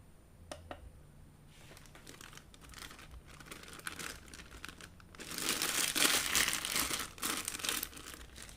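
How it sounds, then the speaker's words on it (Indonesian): A clear plastic bag holding tempe soybeans is handled and closed with a toothpick, giving soft, close crinkling and rustling that grows louder and denser toward the end, with no voices. "Lalu plastik ditutup dan dikunci menggunakan tusuk gigi."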